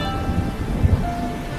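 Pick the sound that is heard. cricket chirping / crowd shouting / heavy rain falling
heavy rain falling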